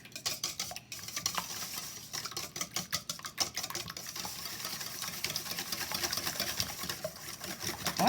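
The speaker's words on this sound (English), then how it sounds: "we're going to break these yolks a little bit" Egg yolks being broken and beaten in a bowl for a frittata, a steady brisk whisking and stirring with utensil clicks against the dish, close and continuous with no talking.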